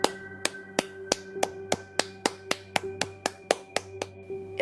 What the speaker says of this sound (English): I stop the video as Mr. H steps forward, clapping.